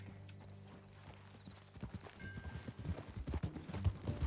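Horse hooves clip-clop in Red Dead Redemption 2, starting faint and growing into a steady, close rhythm of hoofbeats over a low ambient hum with faint background sounds.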